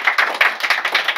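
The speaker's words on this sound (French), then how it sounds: "On applaudit." A small group claps briskly and steadily for about a second, close and fairly loud, with no voices.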